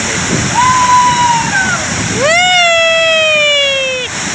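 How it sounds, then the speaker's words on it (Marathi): A steady roar of rushing, falling water from Rautwadi waterfall near Dajipur fills the clip, while a drawn-out voice call rises and falls twice over it. "राऊतवाडी धबधबा"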